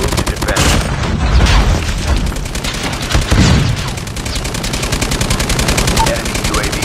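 Rapid, loud automatic gunfire from the Call of Duty Mobile game, with sustained machine-gun bursts and heavy booms, as a voice speaks over the combat.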